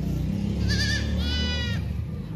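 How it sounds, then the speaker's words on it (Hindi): A goat on a farm in Dera Ghazi Khan gives two short bleats in quick succession, the second slightly longer, over a constant low rumble of background noise. "ये भी बकरा है अल्हम्दुलिल्लाह"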